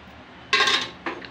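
A metal cooking pot set down on a hard surface, two quick, bright clanks close together, the second lighter than the first.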